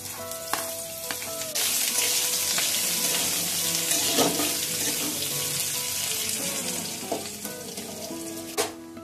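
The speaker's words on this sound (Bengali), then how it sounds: "পেঁয়াজটাকে আমি হালকা করে ভেজে নেব" A medium-sized onion lightly frying in a pan, a broad steady sizzle that swells after a second, with occasional utensil clinks and stirring scrapes, close and fairly loud, no talking.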